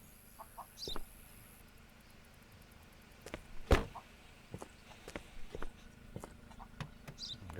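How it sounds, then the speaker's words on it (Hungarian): Chickens carried in a car in the video game Contraband Police, with faint scattered clucks and soft knocks and footsteps, plus one louder sharp knock midway. "Csóró tyúkok itt autóba szállítják őket"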